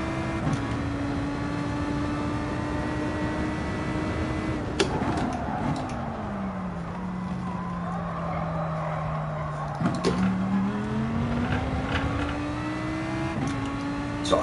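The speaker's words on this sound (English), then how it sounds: "So I'm driving the Lamborghini Huracan 2015, GT3 specifically." Lamborghini Huracan 2015 GT3 race car engine in a racing video game, a steady droning engine note that drops as it slows mid-lap then climbs again through upshifts, continuous and alone without talk.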